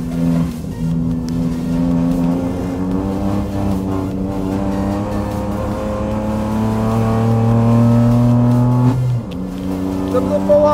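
A Kia Picanto with a 1.0-litre three-cylinder turbo engine of about 100 hp revs steadily, its engine tone rising and then dropping near the end, loud and close inside the car while people talk over it.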